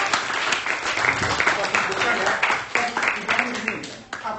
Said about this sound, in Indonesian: sekali lagi mari kita berikan aplaus.